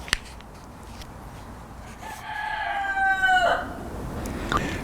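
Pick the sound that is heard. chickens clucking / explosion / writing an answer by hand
chickens clucking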